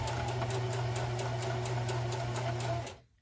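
A sewing machine runs steadily, close and loud, stitching around a felt snowman hat, with a strong low motor hum and rapid regular needle ticks before it cuts off abruptly.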